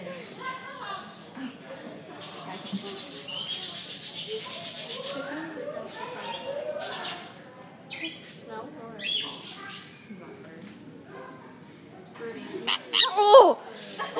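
A pet bird gives repeated harsh squawks and squeaks while biting and tangled in someone's hair, close and irregular, mixed with people's exclamations and nervous laughter throughout.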